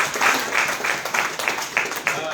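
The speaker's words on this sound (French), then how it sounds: "acclamons pour cette dame" Audience clapping for a woman at a Forever Living Products company evening, a steady ripple of applause with repeated bursts. It carries on through about two seconds.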